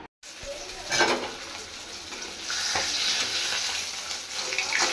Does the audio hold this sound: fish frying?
yes